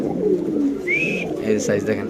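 Fancy Spanish pigeons coo in low, throaty bursts nearby, with a brief higher whistle-like call and people's voices mixed in.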